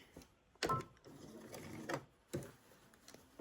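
Sewing machine stitching a sweater sleeve, a quiet, close run of mechanical whirring with a few sharper bursts spaced about a second apart.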